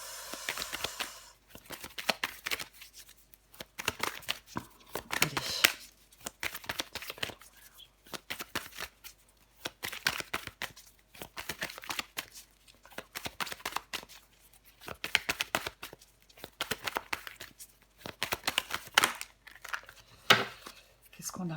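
Tarot cards are shuffled and laid out in repeated short papery bursts of riffling and slapping, close and crisp, separated by brief pauses while someone speaks French between them.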